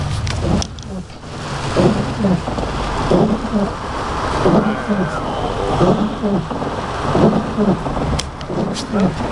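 Heavy rain pours steadily in Florida with a low rumble of thunder underneath, loud and continuous, while a voice talks over it.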